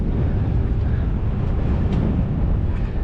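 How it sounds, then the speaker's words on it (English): A sailboat's engine runs while the crew makes water, a loud, steady low rumble mixed with windy noise and no clear breaks. "You'll have to excuse the engine noises"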